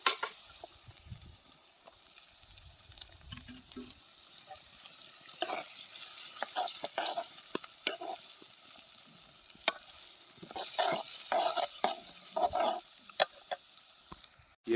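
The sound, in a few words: chopped onion frying with browned ginger and garlic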